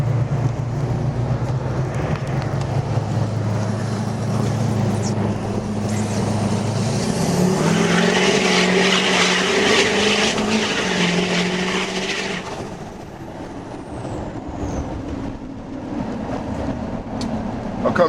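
2006 Duramax diesel pickup with a 5-inch Diamond Eye straight pipe rumbling on a country road, a deep steady exhaust drone that rises into a loud hissing, roaring pull midway, then settles back to a low idle-like rumble.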